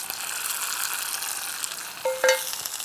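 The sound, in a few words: toasted spices sizzling as added into dal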